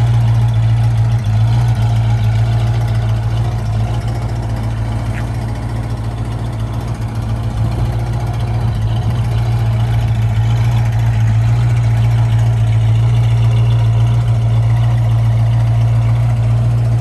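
1966 Ford Mustang engine idling close by, a loud, throaty and steady low rumble that runs without a break and with no voices.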